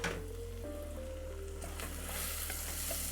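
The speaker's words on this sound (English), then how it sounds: "That high-end sizzling that's telling you that the vegetables are indeed frying." Vegetables for a Creole peperonata sizzle steadily in a hot pan, a bright crackling hiss with a low hum underneath, continuous and close.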